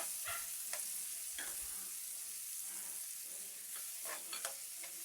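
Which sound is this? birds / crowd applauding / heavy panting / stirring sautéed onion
stirring sautéed onion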